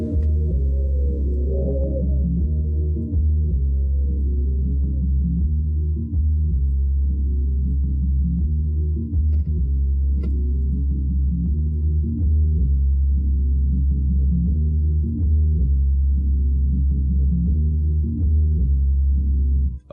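Isolated bassline cut from a sample in FL Studio, a steady, continuous low-end groove that holds alone throughout, with no voice over it.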